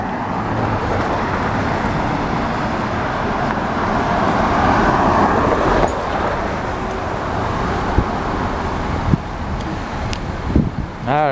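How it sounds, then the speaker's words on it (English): Steady street traffic in Haddonfield, New Jersey, in December: continuous roadway rumble with wind buffeting the microphone and a few clicks and a rising tone near the end, no talk. "let's enjoy the traffic"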